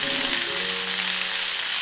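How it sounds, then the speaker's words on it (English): Onions cook in oil for a gravy, a dense, bright, steady sizzle heard up close and alone, with a faint low hum beneath it. "I am going to make a gravy, and I want to caramelize the onions"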